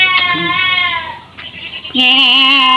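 A goat bleats loudly and close by, a long wavering call followed after a short pause by another sustained bleat, near an apartment in the Philippines.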